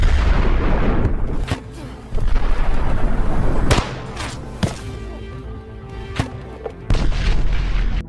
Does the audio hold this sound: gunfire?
yes